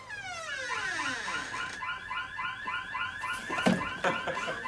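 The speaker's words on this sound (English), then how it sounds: "ring the alarm bell. It's quicker." An electronic alarm goes off with repeated rising and falling warbling tones, steady and fairly loud. Clatter and knocks come in near the end.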